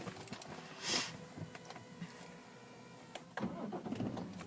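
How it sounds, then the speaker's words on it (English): A diesel BMW 535d SE automatic with 96,596 miles starts up: a short, sharp crank burst, then the engine catches and settles into a steady idle that swells again near the end. It is heard close, with no talking. "And if we just get the car started up"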